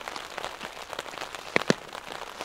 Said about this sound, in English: this rain keeps coming down in big droplets